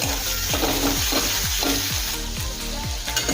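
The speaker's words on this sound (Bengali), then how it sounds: "আবারও কিছুক্ষণ সময় নিয়ে আদা রসুন পেঁয়াজের সাথে ভেজে নেব" Garlic paste, ginger paste, onion and green chilli frying in a pan for dhaba-style egg tadka, a bright constant sizzle punctuated by a regular series of utensil scrapes and knocks against the pan.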